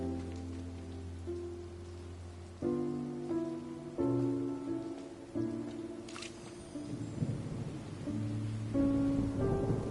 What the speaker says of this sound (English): Oh, huh? It's raining!